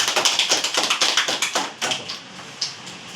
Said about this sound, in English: Okay, next, clap.